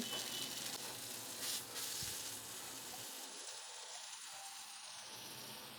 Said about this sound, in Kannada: ಫ್ಲೇಮ್ನ ಮೀಡಿಯಮ್ ಫ್ಲೇಮ್ನಲ್ಲಿ ಇಟ್ಕೊಂಡು ಚೆನ್ನಾಗಿ ಫ್ರೈ ಮಾಡ್ಕೋಣ.